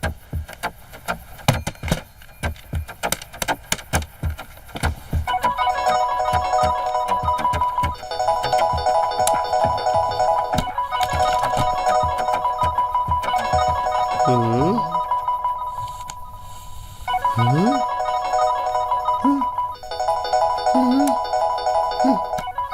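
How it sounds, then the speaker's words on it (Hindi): A phone ringtone rings repeatedly in bursts separated by short pauses and goes unanswered in a Hindi-dubbed South Indian action movie scene. Voices speak over the start and between some rings. "सर, फोन की रिंग बज रही है लेकिन कोई उठा नहीं रहा।"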